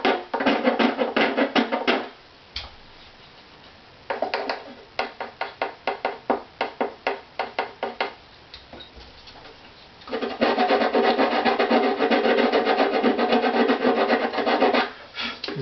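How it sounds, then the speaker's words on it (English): A violin bridge is scraped down to a taper. The dry, raspy rubbing strokes come in fast bursts, then a short run of separate strokes and a longer sustained stretch, close up and loud with no talking. "I'm just going to scrape it tapered."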